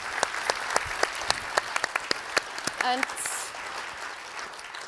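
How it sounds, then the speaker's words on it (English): Audience applause at a live design talk session during the DesignMarch 2023 festival: steady, dense clapping from a roomful of people, sustained for several seconds with sharp individual claps standing out, and a brief voice speaking partway through. "Let's give him applause as well."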